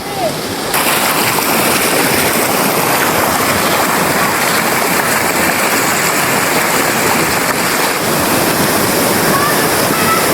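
Water pours down a village waterfall in a lush area with springs: a loud, steady broadband rush that starts abruptly and continues without break, with a voice faintly speaking under it.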